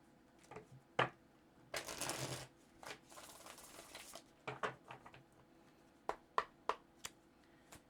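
Quiet riffling and flicking of tarot cards being shuffled, with bursts of fluttering and scattered soft taps, close by.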